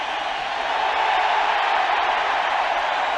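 Baseball stadium crowd cheering for a curtain call at a St. Louis Cardinals game: a steady, loud, broad roar of cheering from a large crowd that swells slightly and holds for a few seconds.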